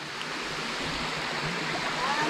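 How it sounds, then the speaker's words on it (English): Steady broadband rush of falling water, like a waterfall close by, continuous and fairly loud with no clear breaks. "here we come to the biggest waterfall"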